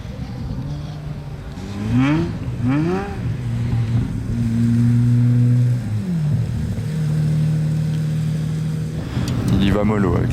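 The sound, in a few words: Pagani and other cars drifting on snow, engine revving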